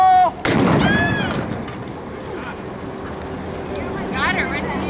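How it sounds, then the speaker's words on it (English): A single sharp, loud .45 caliber blank round cracks close by. Its echo and a brief ring fade away, and voices and outdoor background noise can be heard afterwards. "That's a 45 caliber blank."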